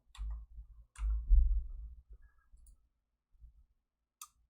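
Scattered keyboard clicks from a software engineer typing, irregular bursts of close, soft taps with pauses between, and no one speaking.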